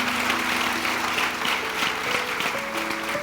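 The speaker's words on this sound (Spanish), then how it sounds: "Dale un fuerte aplauso a Dios" A church congregation gives a loud round of applause during a sermon, thick steady clapping from many hands with faint sustained tones and scattered voices underneath.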